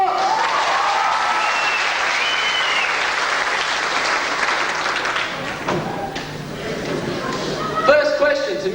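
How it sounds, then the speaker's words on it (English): Loud sustained applause from an audience at a school year-12 farewell event, continuous clapping for about five seconds before fading into scattered claps, thumps and people talking. "Big round of applause for Mr. Box."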